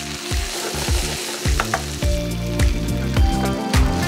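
Vegetables sizzle steadily in a hot pan while being stirred, with repeated scraping, clattering strokes of a utensil over continuous frying hiss, close and fairly loud throughout.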